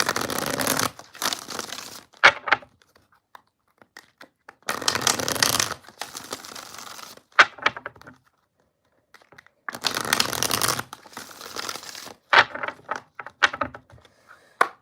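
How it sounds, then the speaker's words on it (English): Tarot cards are riffled and shuffled in several bursts of crisp fluttering, separated by brief pauses and softer handling taps, close by. "we're going to do 3 shuffles"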